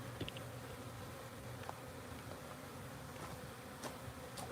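Honeybees drone steadily at a beehive being set up with a feeder, a low continuous buzz with a few faint clicks and knocks, no voices present.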